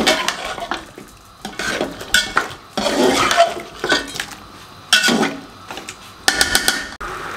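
Spoon stirring a colour mixture into Karachi-style nali biryani in a pot: irregular bursts of close scraping and clinking against the metal, repeated several times with short pauses, and no talking.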